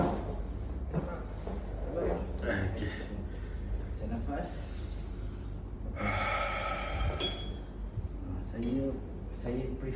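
Slow breathing in and out during a session at a commercial therapy centre, several audible breaths and exhales close by, with some talk around them.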